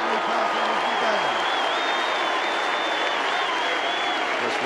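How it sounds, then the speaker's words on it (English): Steady, dense applause from a large crowd at the Hawthorn 1989 Grand Final presentation, loud and continuous throughout, with a faint voice briefly audible early on. "I think we should give him a big round of applause"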